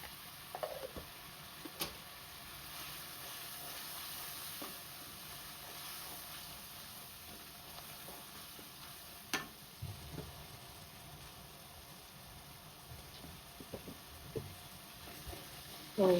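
Ground spices, including chili and turmeric powder, sautéing in a pan, a faint steady sizzle with intermittent clicks and scrapes of stirring throughout.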